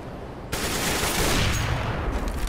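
A sudden loud burst of sustained gunfire in CS:GO on de_dust2, a dense roaring volley that starts abruptly and carries on close by.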